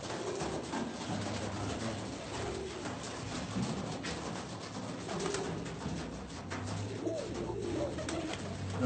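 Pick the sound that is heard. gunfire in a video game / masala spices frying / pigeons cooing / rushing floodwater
pigeons cooing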